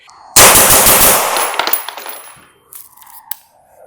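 A Knights Armament direct gas rifle fires one sharp, loud, close shot that rings out and decays over about two seconds, followed by faint metallic clinks of brass or handling.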